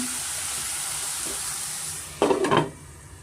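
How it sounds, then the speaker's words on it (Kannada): Vegetable avalakki (flattened rice) frying in a pan on medium heat gives a steady sizzle throughout, swelling into a louder burst of hissing and crackling near the end. "ಮೀಡಿಯಮ್ ಟೈಮಲ್ಲಿ ಸ್ವಲ್ಪ ನಾವು ಫ್ರೈ ಮಾಡ್ಕೊಳ್ಳೋಣ"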